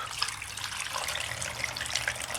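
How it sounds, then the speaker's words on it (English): Homemade coconut milk is poured back into a container, giving a steady, hissing liquid stream that carries on evenly for a couple of seconds, close by and without voices. "And then use this milk and pour this milk back in."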